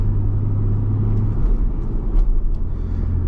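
A manual Porsche 911 Carrera S Cabriolet, 997.1 generation from 2008, drones steadily from inside the cabin while driving, a close, continuous low engine rumble with a slight shift in pitch partway through and no talking.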